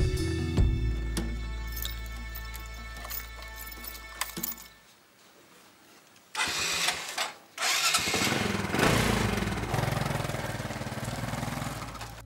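Motorcycle tricycle in Quezon, its engine idling nearby, then cutting out into near silence before starting again and settling back into a steady running rumble.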